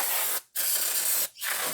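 Brake cleaner sprayed onto a dirty, sludge-filled carburetor from a classic car: two long, loud aerosol hisses separated by a brief pause, with a final short burst, close to the microphone and without talk.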